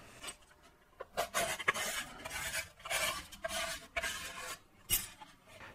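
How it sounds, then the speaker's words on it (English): Scribe dragged along a metal edge for trimming, producing repeated close scraping and rasping strokes in an uneven rhythm, with no talking. "this would be a good time to scribe this edge for trimming"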